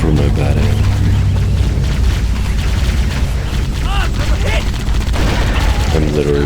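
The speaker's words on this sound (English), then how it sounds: "I'm literally wasting sniper rifle bullets on the grunts" Gunfire in Halo: Combat Evolved, sniper rifle shots mixed into a loud, dense battle with booms and bursts of weapons fire throughout, continuous and close.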